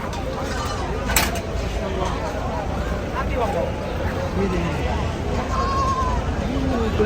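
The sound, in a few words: small goats bleating at Makkah goat market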